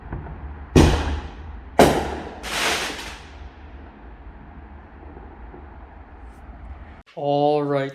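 Fireworks explode on the night of July 4th: three loud, sharp booms close together with rumbling tails, then a quieter stretch of outdoor hum before a brief voice.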